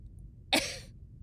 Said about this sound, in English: Lurien coughed, one wheezing puff.